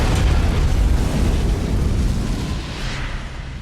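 An airplane explodes into a sustained, loud, rumbling roar of blast and fire that stays dense and heavy throughout, easing off only slightly toward the end.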